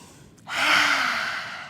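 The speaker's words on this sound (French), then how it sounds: "On va pouvoir faire la respiration du lion." Forceful open-mouthed lion's breath exhalation with the tongue out during a sunrise morning yoga session in India: one close, breathy rushing whoosh that swells abruptly and fades over about a second.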